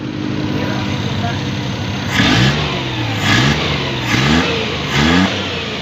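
Suzuki 12-valve car engine idling, then revving four times in quick bursts, close and loud, with a steady idle between the revs.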